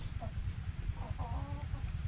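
Soft chicken clucks come through a low, rumbling background noise, a few brief calls at close to moderate distance.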